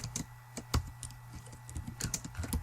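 Sparse keystrokes on a computer keyboard, a few separate clicks then a quicker burst of typing close by, over a low steady hum.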